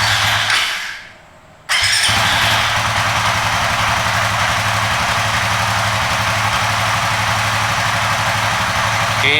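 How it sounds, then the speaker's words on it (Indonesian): A motorcycle engine settles into a steady idle during an air-fuel ratio test, with a brief dip before the loud, even running resumes and holds without talk. "Oke, ini kondisi idle."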